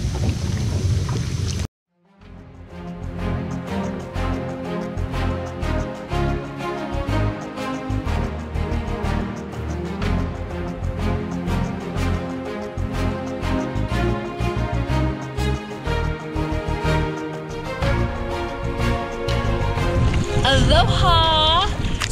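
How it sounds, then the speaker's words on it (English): Kayak paddles dipping and splashing on the way out to the Kaneohe sandbar in Hawaii, rhythmic watery strokes under steady wind buffeting the microphone after a brief cut, with a voice heard near the end. "We're kayaking out to the, what is it, sandbar?"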